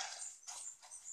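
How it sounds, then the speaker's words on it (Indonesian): A wolf character in The Wolf video game gives short, fairly faint yelping barks, with two or three quick bursts in just over a second and no talk. "Serem banget ya suara serigala kita ya"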